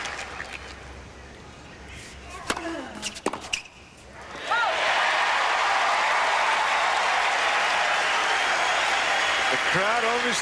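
A tennis crowd at the 2002 Cincinnati match between Andre Agassi and Lleyton Hewitt breaks into loud, sustained applause after a few ball strikes and squeaking shoes, with the clapping running steadily to the end.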